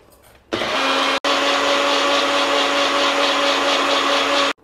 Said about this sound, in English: We will just transfer it into our blender jar and blend it into a fine powder.